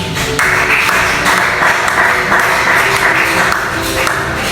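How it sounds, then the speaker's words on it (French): A church congregation applauding the word of the Lord during a French-language sermon, a steady wash of many hands clapping together for a few seconds, fairly loud and close, with no talking over it. "On acclame la parole du Seigneur"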